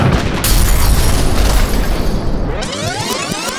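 Several guns fired together at the same window in a film, a loud sustained roaring blast of combined gunfire and impact that fades into ringing, debris-like crackle.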